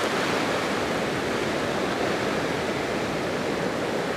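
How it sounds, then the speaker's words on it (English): Big ocean waves crash and wash over a rocky seashore, a loud, continuous roar of surf and churning white water filling the whole stretch, close by and with no voices. "the waves crashing around you"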